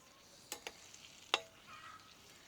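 Four dried red chillies dropped into oil with fried onions, a faint low sizzle punctuated by a few sharp pops and crackles, quiet and close.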